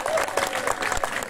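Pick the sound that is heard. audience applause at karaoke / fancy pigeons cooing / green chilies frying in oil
audience applause at karaoke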